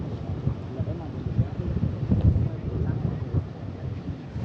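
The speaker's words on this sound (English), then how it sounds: "Very, very windy." Strong wind on a hot Central American viewpoint buffets the microphone with a steady low rumble and gusty surges throughout, loud and close.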